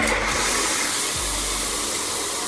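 Water rushing steadily from a tap just opened, fed by a newly installed water heater in a bathroom, loud and continuous from start to finish.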